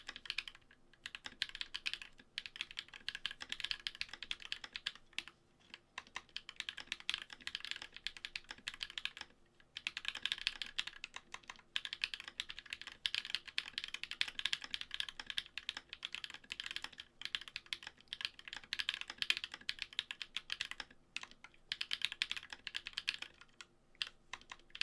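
A mechanical keyboard fitted with Glorious Panda tactile switches clacks through long, steady typing runs with brief pauses, heard up close without speech.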